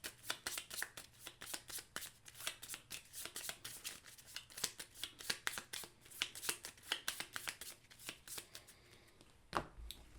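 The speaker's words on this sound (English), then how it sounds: "I'm going to shuffle up her deck" A deck of Marvel United board game cards is shuffled close by in quick, crisp riffling bursts that repeat steadily for several seconds, with one sharper tap near the end and no talk.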